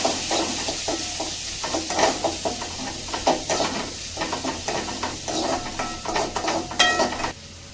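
Small onions sautéing in a pan with a little salt, a steady sizzle with repeated stirring scrapes and clinks of a spoon against the pan, close and without talk.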